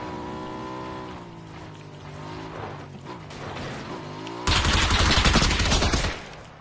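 Gunfire in the video game PUBG: a droning engine-like hum first, then a loud, dense burst of rapid shots that crackles for about two seconds before cutting off.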